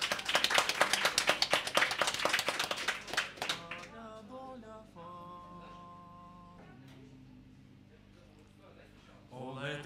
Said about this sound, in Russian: Под аплодисменты наших зрителей.